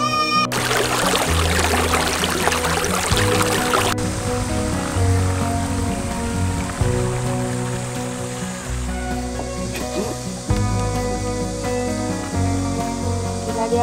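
A shallow valley stream flows at a campground, a steady, close rush of water that stays loud and continuous throughout with no voices over it.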